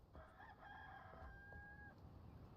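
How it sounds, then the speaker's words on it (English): A rooster crows once in a game set in a watery basin area, a drawn-out cock-a-doodle-doo call that is faint and somewhat distant over low background noise. "The roosters are like, we hear you."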